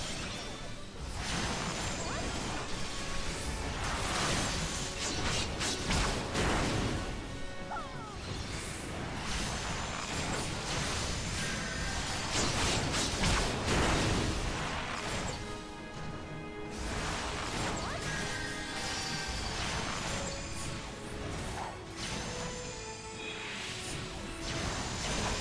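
Flesh pods bursting under an archer's attacks in the Final Fantasy XIV dungeon Toto-Rak, a steady run of loud crashing, whooshing combat effects that pile up over each other for the whole stretch with no pause.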